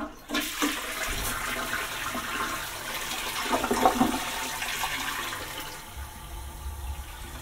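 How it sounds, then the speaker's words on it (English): A hotel toilet flushes with a sudden rushing gush of water that swells, churns for several seconds, then settles into a softer refilling hiss, close and alone. "We got to actually flush the toilet."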